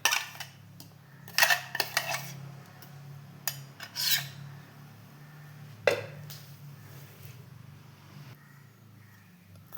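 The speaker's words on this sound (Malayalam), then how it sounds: "എന്നിട്ട് നമുക്കെല്ലാം കൂടി മിക്സ് ചെയ്യാം." Ingredients for Pesaha appam are stirred in a bowl, giving scattered scraping and clinking of a utensil against the dish, with a few sharper knocks standing out above a quiet background.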